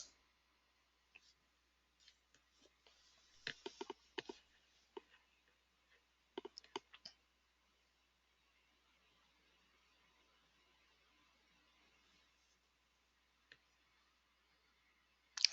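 Sparse clicks and taps of a computer keyboard and mouse while entering data in SAP, coming in a few quiet bursts with long silent gaps between them, close and faint.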